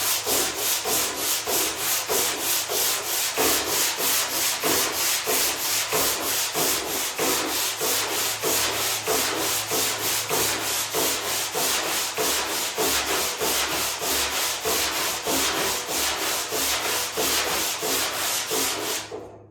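Sanding a guide coat on a car body panel by hand makes rapid, rhythmic back-and-forth rasping strokes. The rubbing is loud, close and steady, and no one speaks.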